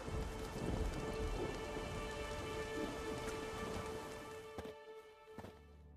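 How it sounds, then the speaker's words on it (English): Rain falling in The Witcher 3: Wild Hunt, a dense steady downpour with a low rumble of thunder, loud at first and easing toward the end as a few sharp clicks cut through. "There's no point standing here in the rain."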